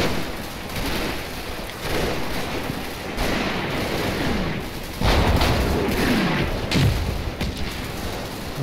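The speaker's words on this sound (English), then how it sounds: "my mortars are starting to come in onto the farmhouse on the hedgerow lines" Dense rumbling barrage of mortar fire in the Combat Mission wargame, set in France in 1944, with continuous booms and crackling blasts layered over one another and a few heavier impacts standing out.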